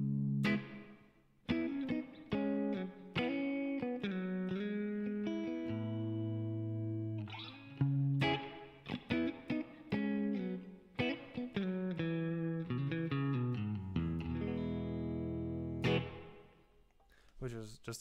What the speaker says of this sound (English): Boing, which is just a spring reverb.